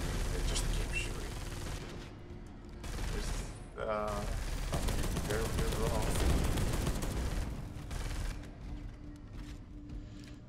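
Continuous automatic gunfire in Space Hulk: Deathwing, dense rattling bursts that keep going for the whole stretch with no pauses for reloading, with some talk mixed in underneath.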